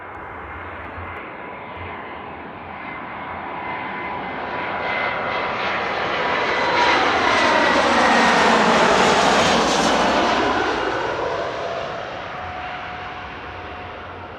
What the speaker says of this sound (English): I just love those loud overhead planes.